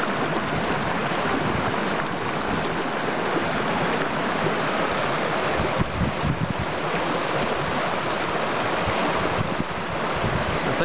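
Water of Ben Glas Burn, a mountain stream in Scotland, rushes in a steady, loud broadband wash on a summer evening, unbroken and close with no voices.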